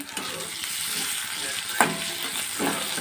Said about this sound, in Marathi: याला एक चांगलं परतून घेऊया दोन तीन मिनटं स्वाद येण्यासाठी